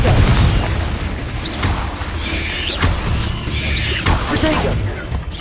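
An explosive Confringo spell bursts in Hogwarts Legacy combat, with loud booming impacts and crashing debris repeating across the stretch amid busy game noise, with some brief voice sounds mixed in.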